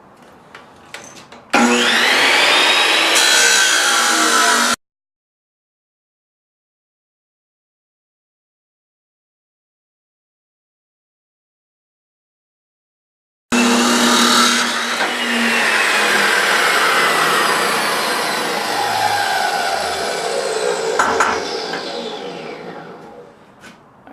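A chop saw cuts through metal, with a loud, harsh, sustained whine and grind in two separate bursts. The first is short, and the second runs longer and tapers off, with silence between them and no talking.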